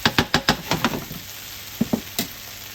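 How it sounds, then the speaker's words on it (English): Food sizzling and being stirred in a pan as a sauce cooks, with a quick run of sharp utensil scrapes and knocks early on, then a few more spaced taps after a pause, fairly quiet and close with no talk. "Keep cooking and stirring that."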